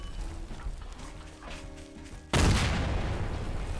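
Gunfire in the Garry's Mod sandbox game during a FNAF animatronic nextbot mod, a loud burst of shots starting partway through, with a dull rumble and a dog-like sound beforehand.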